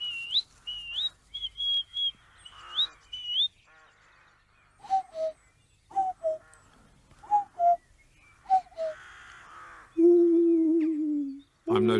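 A man whistles imitations of birdsong, first a run of rising, warbling chirps, then a series of short paired two-note calls with pauses between, ending in a longer sustained whistled note, close and clear.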